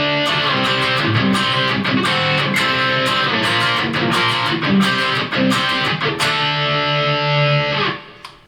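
Distorted electric guitar churning through a short run of power chords, loud, dense and continuous before cutting off at the end, with no talking.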